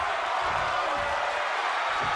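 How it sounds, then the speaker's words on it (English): An arena crowd roars in the WWE 2K22 video game during an NXT tag-team match, a steady wall of cheering noise that stays loud and unbroken throughout. "when you can't hear yourself think because the crowd's so loud"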